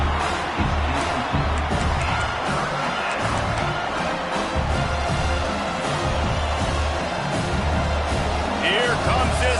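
Home crowd roaring at a college football game between Oregon and Washington as the defense faces third down, a dense, sustained stadium din under a commentator's voice throughout.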